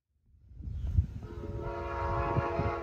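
Amtrak train P683, led by the Midnight Blue Anniversary locomotive, approaches with a rising rumble and then sounds a steady, sustained horn chord that holds to the end.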